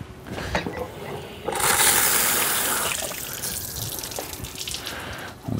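Tap water gushes and splashes steadily close by as a towel is soaked for detailing a C7 Corvette, swelling louder midway before easing off.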